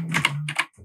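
A Royal Kludge RK100 96% wireless mechanical keyboard gives two quick pairs of crisp, clacky key presses close to the mic, with a faint low hum between them.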